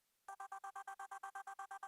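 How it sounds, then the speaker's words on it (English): A chopped vocal passes through a resonant filter, giving a rapid, evenly pulsed stutter of about a dozen identical buzzy bursts. It is clean and close and sounds almost like an electronic ring. "The second one is just a filter, which just adds a little bit of resonance, so it sounds like this."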